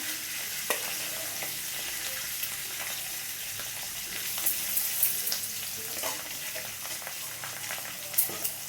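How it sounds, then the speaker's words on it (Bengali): Whole cumin, curry leaves and ginger paste frying in hot oil, a steady soft sizzle with occasional stirring clicks and small spatters, fairly quiet and close, no talking. "দিয়ে মশলাটা আমি একটু ভেজে নেবো।"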